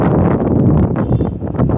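Steady wind buffets the microphone with a dense, rumbling roar throughout, loud and close, with no voices, on an outdoor sky park atop a seaside mall in Cebu City.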